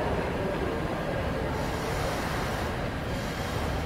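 Steady low rumble of a train rolling in to platform 5 at Roma Termini station, with a continuous broadband roar and rail noise, no voices.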